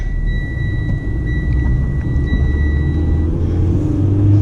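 A manual-transmission car idles at a stop sign with a steady low engine rumble, the revs lifting slightly as a little gas is given, heard up close and alone.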